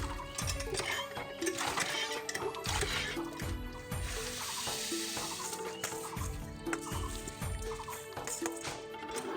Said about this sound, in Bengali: এখন চাল ধুতে এসেছি কলের বাড়ি